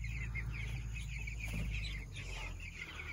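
A flock of about 99 meat chickens clucks and peeps in a continuous soft chorus over a steady background hum, with no talking.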